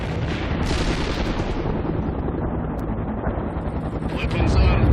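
An MI-24 helicopter gunship attacks in World in Conflict, a continuous loud roar of rotor and weapon fire with rumbling explosions and radio chatter throughout, swelling louder near the end.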